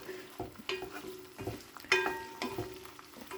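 Okra cooking uncovered in a pan over a medium gas flame, light stirring scrapes and a few ringing spoon clicks against the metal over a faint sizzle, fairly quiet and close.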